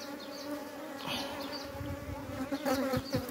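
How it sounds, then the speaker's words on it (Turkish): Honey bees buzz close by at a beehive, a dense continuous drone with individual bees whining past the microphone. "Arı neredeyse kata gelmiş artık."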